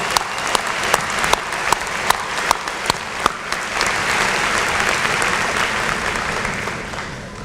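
A commencement audience claps for cum laude graduates at a spring university ceremony: a few sharp, separate claps open, then the applause swells into a full, sustained crowd ovation that slowly tapers.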